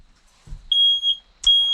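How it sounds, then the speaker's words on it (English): A caravan's smoke alarm and carbon monoxide detector inside a 2018 Sterling Elite 560 give a soft thud, then two close, loud, sustained high electronic beeps, followed by a steady continuous tone. "Couple of little noisy bits, carbon monoxide detector and my smoke alarm there."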